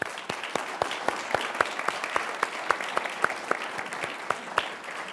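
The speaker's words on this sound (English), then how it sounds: "give the debaters and ourselves another round of" A debate audience gives a sustained round of applause, many hands clapping steadily and fairly loud throughout, with occasional sharper individual claps standing out.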